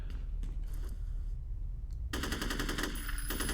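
A powerful automatic weapon fires in the F.E.A.R. shooter game, starting with scattered single shots and then breaking into a loud sustained rapid burst close up.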